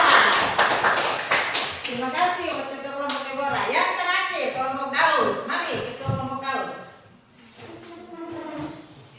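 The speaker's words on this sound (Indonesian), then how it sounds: "Ya, tepuk tangan dulu." A class applauding after a group presentation, with a quick burst of clapping hands at the start that fades under people talking.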